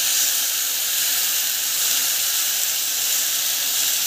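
Tomato puree hitting a hot pan gives a steady, even hiss and sizzle, loud and close, lasting the whole stretch with no voices.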